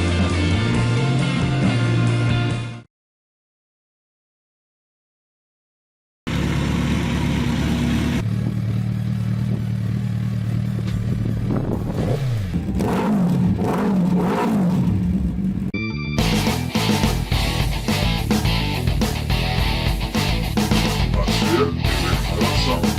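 A Suzuki Hayabusa motorcycle at high speed in a 200 mph top-speed run, its engine roaring loud and continuous, with a brief cut to silence early on, then sustained revving with rising and shifting pitch and clattering mechanical noise.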